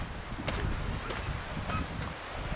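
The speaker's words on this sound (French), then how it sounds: "Vous entendez peut-être le vent d'ailleurs." Wind blows across an exposed island coastline during a bike ride, a faint steady broadband rush with soft gusting buffets and no clear speech.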